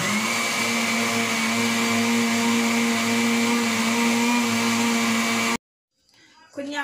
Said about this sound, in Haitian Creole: Et puis, quand là, nous allons blender encore.